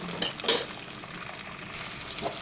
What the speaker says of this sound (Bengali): দিয়ে দিচ্ছি টমেটো ক্যাপসিকাম আর টমেটোটাকে ভালোভাবে একটু ভালোভাবে নাড়াচাড়া করে নিচ্ছি